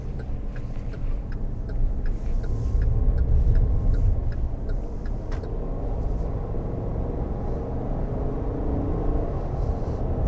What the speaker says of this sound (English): And accelerating up to 52 miles an hour.